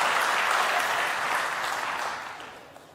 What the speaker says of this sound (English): Hey, they're also clapping.